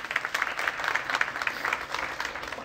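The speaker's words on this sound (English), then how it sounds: "hopefully with a round of applause" At an industry conference on artificial intelligence, the audience applauds as a speaker comes on stage, a brief burst of brisk, crisp clapping from a modest crowd, heard alone.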